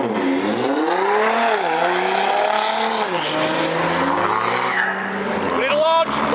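A car at an outdoor car meet in Hull revs hard through a burnout, its engine note rising and falling in loud sustained sweeps with tire squeal and crowd chatter mixed in, ending on a sharp high rev.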